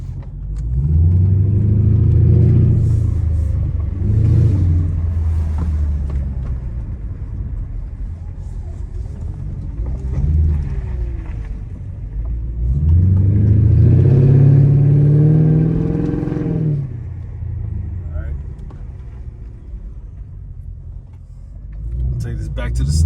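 A 2009 Mercedes SL550 R230 with loud exhaust and coilover suspension driving slowly through a cul-de-sac, its low engine rumble swelling twice as it accelerates, heard from inside the car with speech over it.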